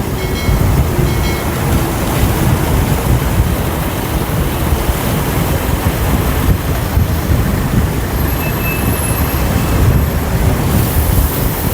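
Loud, steady rushing roar of water pouring from a pipe into a water tanker truck, a continuous broadband gush with no talk.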